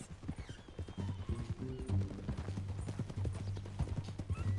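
Steady clip-clop of hooves with a brief whinny in the video game Red Dead Redemption 2, set against a low droning background; no talking.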